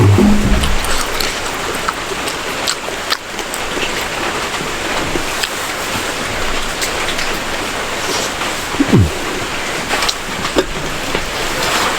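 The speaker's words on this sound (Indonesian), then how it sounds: "baraya hujan ngerincik" Light drizzling rain falls steadily, a constant soft hiss with scattered drops and no voices.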